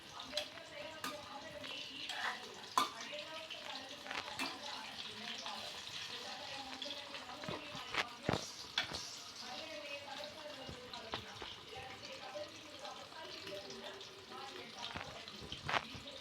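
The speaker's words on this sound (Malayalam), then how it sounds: "ഒന്ന് ഫ്രൈ ആയിട്ട് നമുക്കൊന്ന് ഇളക്കി കൊടുക്കാം" Chicken frying in a pan: a steady, soft sizzle with the clatter and scrape of a spoon stirring the pieces, heard close under quiet background sounds.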